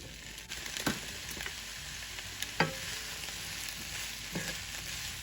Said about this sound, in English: I'm going to add that to my pan